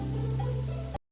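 Steady cartoon rain falls in a jungle, a dense continuous hiss with a low hum beneath, holding evenly before cutting briefly to silence and resuming.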